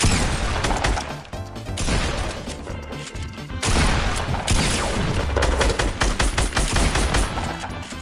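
Rapid bursts of video game gunfire crackle in dense volleys, loud and close, with a brief lull before the shooting resumes just as intensely.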